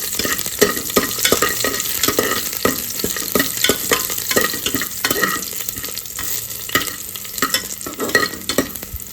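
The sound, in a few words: garlic frying and being stirred in ghee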